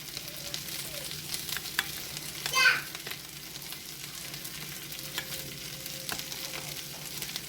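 A spoon stirs creamy roasted Brussels sprouts in a pan, producing a steady low sizzle with soft scraping strokes and one brief louder scrape near the middle.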